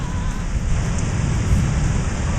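Heavy rain pours steadily during a thunderstorm in Central Pennsylvania, with a deep low rumble of thunder beneath the constant hiss and no voices.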